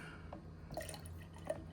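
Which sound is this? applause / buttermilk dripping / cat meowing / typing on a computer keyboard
buttermilk dripping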